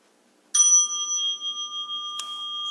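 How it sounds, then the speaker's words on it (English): A meditation bell is struck twice during a guided meditation session: a clear bright strike rings out and sustains, then a second strike lands and keeps resonating in a quiet room. "Jeff's going to start ringing some bells."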